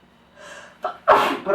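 A person sneezes once: a short gasping intake followed by a sharp, loud burst and a brief trailing breath, close to the microphone.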